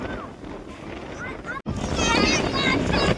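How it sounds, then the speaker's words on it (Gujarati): Strong wind on the Narmada riverbank rumbles and buffets the microphone steadily while people talk over it, with a brief cut partway through. "એટલો બધો પવન આવે"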